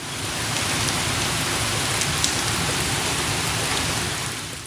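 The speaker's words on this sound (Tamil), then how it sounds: "இன்னைக்கு ஃபுல் டேவும் நல்ல மழை" Heavy rain pours down steadily on a rainy day, a dense, loud, unbroken hiss of drops on surfaces with no voices and no pauses.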